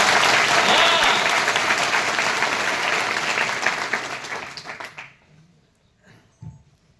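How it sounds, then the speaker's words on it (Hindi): A large audience at a job fair address in Gwalior claps in dense, sustained applause that lasts about five seconds, then cuts off abruptly, leaving a few faint scattered sounds in the quiet that follows. "तालियों में गर्मजोशी होनी चाहिए।"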